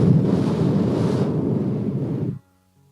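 A person blows a long, steady breath of air close to the microphone, a windy whoosh imitating the breath of the Spirit, lasting about two seconds before cutting off into quiet.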